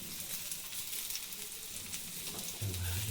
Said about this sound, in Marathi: आणि मस्तपैकी अशी भाजून घेणार.